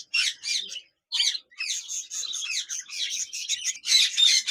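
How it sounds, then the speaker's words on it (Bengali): Albino budgerigars in a cage chirp and chatter in a close, busy stream of high twittering calls with short pauses between bursts. "অ্যালবেনো বাজরিকার পাখি রয়েছে চমৎকার সাইজের রানিং এই পেয়ার জোড়া"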